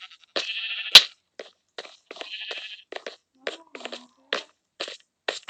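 Donkey braying in the Minecraft video game, a sequence of short raspy honking calls in uneven bursts, loud and close, with no talk.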